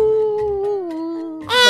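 A sustained, wavering howl, a wolf in a Minecraft roleplay, slowly drops in pitch and ends with a brighter rising cry, loud and close.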